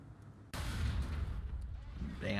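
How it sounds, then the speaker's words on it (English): A sudden heavy boom from a tank shell explosion in the War Thunder tank game, hitting abruptly and rolling into a sustained low, rumbling roar. "Damn, that explosion was massive"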